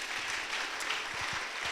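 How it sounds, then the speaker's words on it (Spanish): Church congregation applauding during a sermon, a fairly quiet, diffuse patter of many hands with a few louder low thumps mixed in, continuous for the short span. "¿Cuántos le dan un aplauso a Dios que lo crean?"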